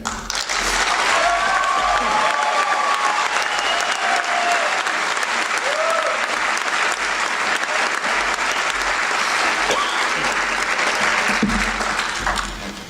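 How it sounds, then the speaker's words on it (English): A large crowd at a commencement ceremony applauds graduating cadets in sustained, full applause that stays loud and even for a long stretch, with scattered cheers and a faint voice or two woven through. "Let's give those cadets one more round of applause."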